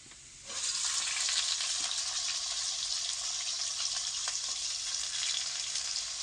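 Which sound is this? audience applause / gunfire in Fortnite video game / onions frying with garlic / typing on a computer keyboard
onions frying with garlic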